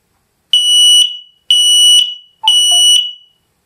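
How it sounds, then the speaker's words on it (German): An X-Sense smoke alarm sounds during a device test, giving three loud, piercing electronic beeps, each about half a second long, separated by short gaps, with a faint brief chirp near the third beep and no talk. "So, Rauchmelder. Gerät testen."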